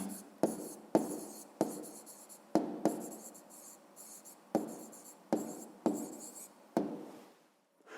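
A pen scratches across paper while someone works a fifth-grade maths exercise by hand: quiet, close, rhythmic strokes with sharp taps at the start of each, heard alone.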